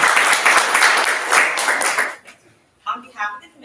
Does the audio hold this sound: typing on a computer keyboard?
no